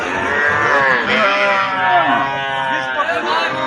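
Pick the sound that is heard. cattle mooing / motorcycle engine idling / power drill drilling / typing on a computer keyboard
cattle mooing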